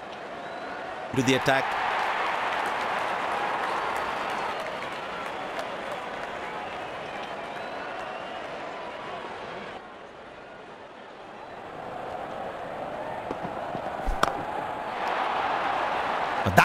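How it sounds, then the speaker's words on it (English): A cricket stadium crowd at a Pakistan vs New Zealand T20 match cheers and claps in a steady wash of noise, easing briefly midway before building again, with a commentator speaking over it. "the crowd cheering in anticipation"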